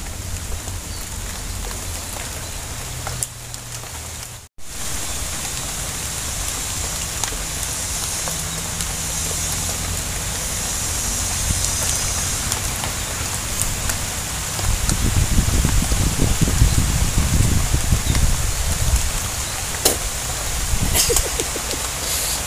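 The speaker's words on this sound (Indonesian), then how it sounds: "Hujan." Steady rain falls at an eel-fishing pond, a dense continuous hiss that swells louder in the latter part, with no voices over it.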